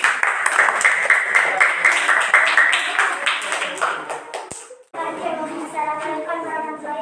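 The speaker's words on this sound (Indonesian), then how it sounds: "tepuk tangan untuk kelompok 1." A classroom of students claps for a presenting group, a brisk burst of applause lasting several seconds that fades out, then voices follow after a brief break.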